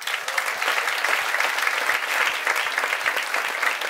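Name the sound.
concert audience applause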